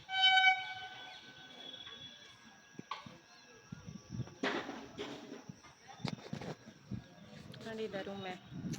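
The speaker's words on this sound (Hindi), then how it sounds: "ट्रेन भी आ रही है, वो आ रही।" A train pulls into a railway station and opens with a loud, brief horn blast, followed by distant rumbling, clatter and platform bustle, with a person talking over it.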